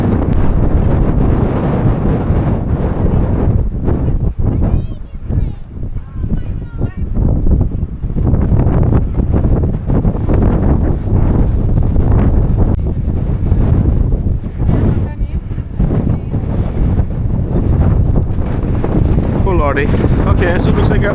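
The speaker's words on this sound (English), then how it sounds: "now there's a northerly, and the northerly is giving her a good rock and roll as well" A strong northerly wind buffets a moored sailboat in stormy weather, with loud, continuous roaring gusts hitting the microphone throughout and faint creaks and water sounds underneath.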